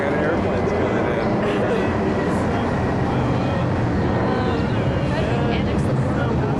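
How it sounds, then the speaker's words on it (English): Airplanes flying in overhead above the old streets of Islamic Cairo near the Darb al-Ahmar district, a loud, steady broadband roar with no clear breaks, persisting throughout. "we got airplanes coming in"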